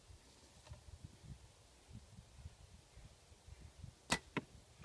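An arrow is shot at balloons swaying in the wind outdoors, landing as two sharp, loud cracks in quick succession near the end after a stretch of low, rumbling wind noise.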